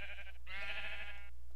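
A Minecraft sheep bleats twice in quick succession, a short wavering cry followed by a longer, louder one, clear and close with no talk over it.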